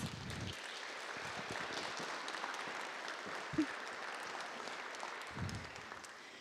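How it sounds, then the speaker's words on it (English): An audience at an academic teaching and research symposium gives a round of applause, a steady, fairly faint wash of many hands clapping heard from a distance, continuing evenly throughout. "Let's give Darby a big round of applause."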